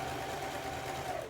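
A sewing machine zigzag-stitches over a string, giving a brief, steady, mid-pitched motor whir with a fine rapid needle rhythm running throughout.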